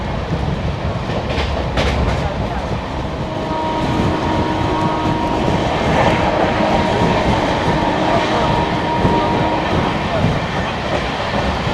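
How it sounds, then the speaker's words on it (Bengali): Kanchanjungha Express, an LHB train, runs at speed with a loud continuous rumble and rhythmic clatter of wheels over rail joints, heard from inside the coach under occasional talk. "ফার্স্ট এলএইচবি রান আর ট্রেন কিন্তু একশো দশ টাচ করলো"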